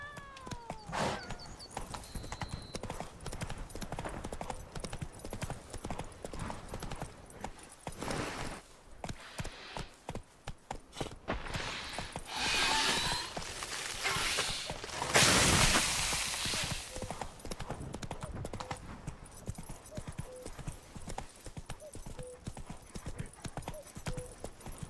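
Roach, the horse in The Witcher 3: Blood and Wine, gallops with rapid rhythmic hoofbeats throughout, broken by whooshes and brief louder bursts of action.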